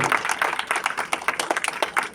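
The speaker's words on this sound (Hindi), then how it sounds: "जोरदार ताली से हल्ला होना चाहिए।" Applause from the audience at a village Ambedkar Jayanti ceremony during a prize distribution: steady, brisk clapping from many hands, fairly close and continuous throughout.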